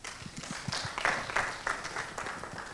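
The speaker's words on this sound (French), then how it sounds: "Oui, applaudissez votre cher collègue, ce n'est pas interdit" Scattered, modest applause from an audience at a talk on Nelson Mandela's impact, uneven individual claps heard fairly quietly across a hall.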